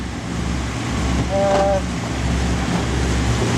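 A boat's diesel engine runs underway after a fault, a steady low rumble with water wash around the hull and a brief tonal whine partway through, fairly loud and close.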